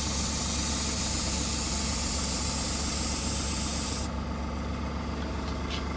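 A steady hiss of an airbrush spraying weathering paint over model railway track, with a humming compressor drone; the hiss cuts out partway while the motor keeps running.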